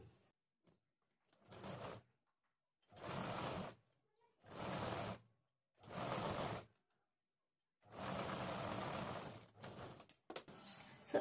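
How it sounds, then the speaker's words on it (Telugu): Sewing machine stitching folded fabric, running in five short bursts separated by silences, each a steady mechanical whir, followed by faint handling clicks. "ఈ విధంగా మిషన్ తోటే మడిచి కుట్టేసుకోవాలి"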